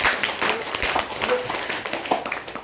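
A church congregation claps during a Sunday service in scattered, uneven bursts. The claps are moderately loud and close, with faint background voices.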